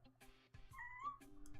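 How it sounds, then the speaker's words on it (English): A house cat meows a few times close by, short tonal calls with rising pitch, heard alone. "My cat is assaulting me."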